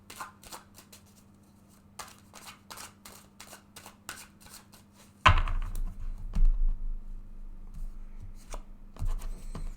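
Tarot cards are shuffled in quick, crisp flicks, then handled and drawn with louder, denser rustling and slapping up close.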